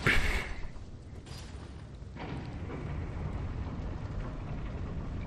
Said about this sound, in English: It's always raining here.